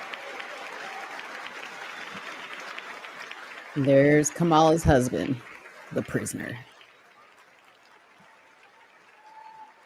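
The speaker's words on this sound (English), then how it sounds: "Why are they clapping for her?" Audience applause in the chamber at the State of the Union, bursts of clapping rising for a few seconds then fading, with someone talking over it before and after.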